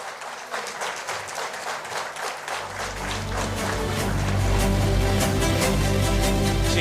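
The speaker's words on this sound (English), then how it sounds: "so a bigger round of applause" An audience at a BSNL award felicitation event in Kodaikanal applauds, scattered claps quickly building into dense, sustained clapping that swells louder and fuller over several seconds.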